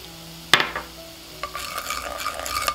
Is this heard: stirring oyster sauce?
yes